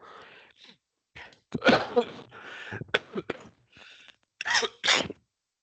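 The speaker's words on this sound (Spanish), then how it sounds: "perdón si se escucha la tos" A lecturer gives a burst of short, sharp coughs and throat-clearing sounds close to the microphone, separated by brief silences, with no speech in between.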